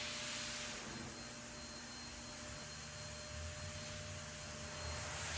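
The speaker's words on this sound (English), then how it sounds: "to be drying out the surface with a Mitrovac blower" A Mitrovac blower dries the surface of an expensive car, producing a steady, breathy roar of rushing air that holds throughout with slight swells and no speech.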